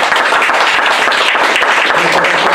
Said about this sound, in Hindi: हम प्रभु के लिए जोरदार ताली बजाएंगे सब